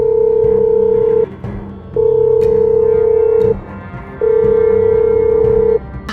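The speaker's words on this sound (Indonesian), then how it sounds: "Gue telepon Ipang dulu ya" Telephone dialing tones while a call is placed in an animated drama: three long, loud steady tones separated by brief gaps, alone without talk.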